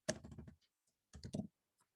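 Two short bursts of computer keyboard typing as a command is entered, a quick cluster of close clicks, a pause, then another brief run of keystrokes.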